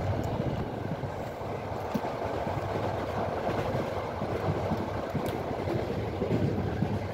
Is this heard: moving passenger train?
yes